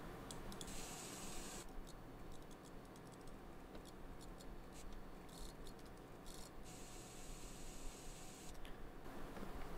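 Spray paint tool in the racing game Street Legal Racing Redline, heard as bursts of hissing spray that start and stop over a steady background, with no talking.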